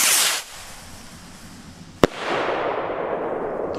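A TOTAL PXR303 firework rocket bursts outdoors: a hissing burst, then a single sharp bang followed by a long fading crackling hiss.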